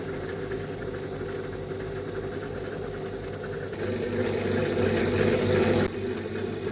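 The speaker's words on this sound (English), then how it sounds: "Let's just take them to the wire wheel." A bench wire wheel is running while rust is taken off metric slip gauges. It gives a steady motor hum with a harsher, louder grinding rasp for a stretch as the metal is pressed against the wheel.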